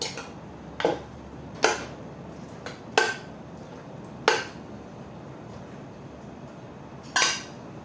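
Stewed beef going into a cooking pot for a Lao-style curry, heard as a few sharp metallic clinks and knocks of utensil against pot, spaced irregularly and fairly close, with no talk.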